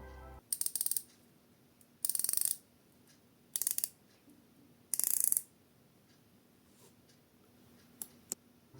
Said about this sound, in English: whilst I like firm resistance on a bezel, this is perhaps a little bit too firm. But anyway, have a listen